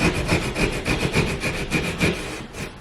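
A razor blade cuts drywall along a stud in rapid, raspy back-and-forth strokes, a close, continuous scraping sawing sound with an even rhythm.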